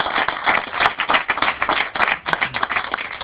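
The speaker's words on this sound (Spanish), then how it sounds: "un aplauso al señor Nietzsche" Bright, close clapping from a small group of people, a rapid uneven patter of individual hand claps that swells and dips throughout without any talking.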